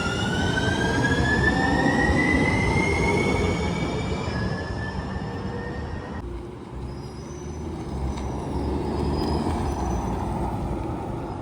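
A metro train at a station inside a college campus, with rising whines of electric motors as it pulls away, steady rumble, and brake or air hiss, loud and close throughout with no talking.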